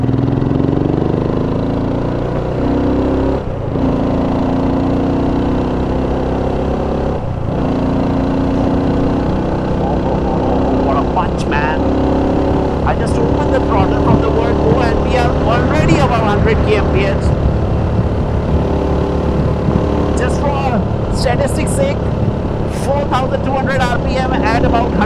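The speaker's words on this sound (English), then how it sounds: "experience riding this BSA Gold Star 650" A BSA Gold Star 650 single-cylinder motorcycle engine runs steadily underneath someone talking close to the microphone, a low continuous thrum with a few rises in revs on a chilly morning ride.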